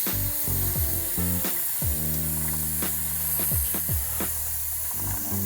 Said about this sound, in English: So I'll go ahead and take my wax and we'll spray it from the top down